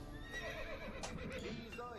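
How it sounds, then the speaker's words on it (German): A horse whinnies in Assassin's Creed Brotherhood, a short, wavering neigh with faint hoof clops beneath it. Quiet game audio runs throughout, and some voice-like sound mingles with the call. "jetzt gibt es scheiß Pferdl schon wieder"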